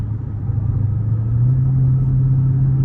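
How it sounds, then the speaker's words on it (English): Dodge Charger R/T V8 engine pulling under acceleration, a loud steady low rumble that swells slightly as throttle opens, heard from inside the car with no talking. "hit the gas."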